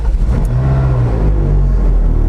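A Ferrari Challenge Stradale with an aftermarket valved exhaust starts up and settles into a loud, deep, rumbling idle, close and alone with no talk.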